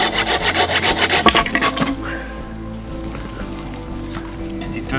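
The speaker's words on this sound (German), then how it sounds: "Wir sehen zu, dass wir ein paar Baumstämme und zusammen sägen hier von dem Totholz." A saw rasps through deadwood logs outdoors in quick, rhythmic strokes, then stops, leaving quieter rustling and faint background noise.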